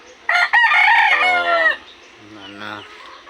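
A young backyard rooster lets out one loud, close crow that rises and then trails off in about a second and a half, followed by a softer, lower vocal tail.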